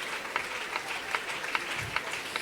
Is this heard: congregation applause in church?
yes